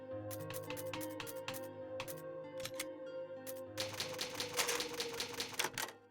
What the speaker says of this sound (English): I think I've heard that typewriter noise in like songs before.